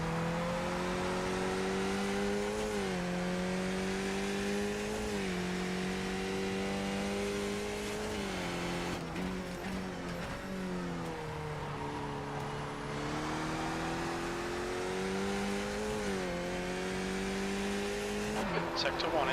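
Race car lapping Tsukuba circuit in a racing video game: a loud, continuous engine whine that climbs and drops repeatedly with gear changes, with tyre squeal and a voice talking over it.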